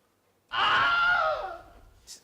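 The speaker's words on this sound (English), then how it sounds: "It's called the Wilhelm scream for some reason" A single loud, drawn-out human scream that rises and then trails off, followed by a short faint sound.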